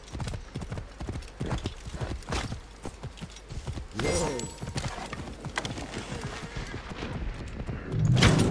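A horse's hooves clip-clop in a steady, close, fairly loud rhythm, with brief snorting or whinnying noises and some background voices.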